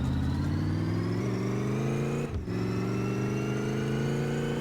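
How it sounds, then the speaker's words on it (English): A V8 car engine in the racing game My Garage revs steadily at a high, held pitch, with a brief dip near the middle before climbing back. It is loud and close throughout, with no talking. "Not too sure what kind of horsepower this engine is making"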